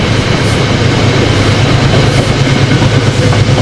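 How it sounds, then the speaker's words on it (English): An Amtrak train rushes past at speed, a loud, close, continuous roar with rhythmic wheel clatter and no voices. "Here comes Amtrak to Rutland. He's coming in pretty fast."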